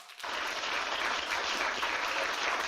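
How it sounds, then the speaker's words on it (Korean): Audience at an indoor gender-equality ceremony in Busan bursts into sustained applause after a brief quiet moment, the clapping dense and even until the end. "격려의 큰 박수 한번 보내주시면 어떨까요"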